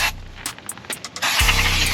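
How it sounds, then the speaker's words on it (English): Aerosol brake cleaner sprayed during a front rotor and brake pad replacement on a 2017 Hyundai Santa Fe Sport, heard as a loud sustained hiss near the end after a few short clicks and bursts. "Then I'm going to take some of the brake clean,"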